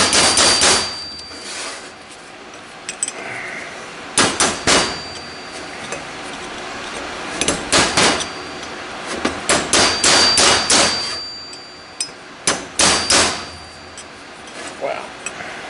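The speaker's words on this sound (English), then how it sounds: "carefully barely get on the seal or on the edge of the bushing and tap it out" A hammer taps out a bushing on an RE5R05A automatic transmission: sharp metallic strikes come in bursts and clusters with pauses between them, loud and close, with a little faint shop background.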